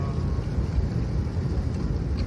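Steady low rumble inside a moving car, with road and engine noise filling the cabin evenly and no voices over it.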